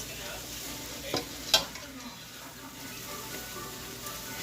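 Okra sizzling and frying in a pan, a soft steady hiss with a couple of sharp clinks of a utensil against the pan, fairly quiet throughout.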